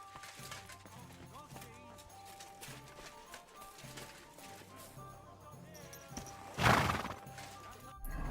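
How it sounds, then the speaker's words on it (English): A horse in the video game Kingdom Come: Deliverance 2, with hoof clip-clops and a burst of whinnying near the end, heard under game music and a voice talking. "We'll use the horse because I think the horse will be quicker."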